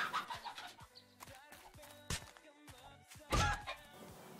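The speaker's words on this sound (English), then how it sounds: "I'm so used that one shot kills the chicken that two actually surprises me." A chicken clucking in the survival game 7 Days to Die, a series of short, quiet clucks with scattered thunks and a louder burst near the end, heard alone without talk.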